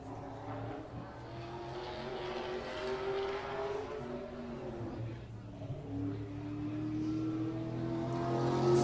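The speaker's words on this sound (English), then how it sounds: "you can hear that push, that squeal as they're pushing through 1 and 2" Race cars lapping Penticton Speedway, engines droning steadily at mid distance as the pack pushes through turns one and two, with tire squeal woven in and rising toward the end.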